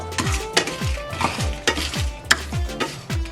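Cinnamon sticks and whole spices dry-roasting in a pan for chicken biryani, with rhythmic stirring scrapes and rattles of the spices against the metal pan, repeated several times, close and fairly loud over a faint sizzle.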